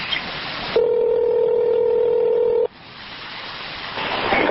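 A steady two-tone telephone dial tone holds for about two seconds, loud and clear, with hissy line noise before and after.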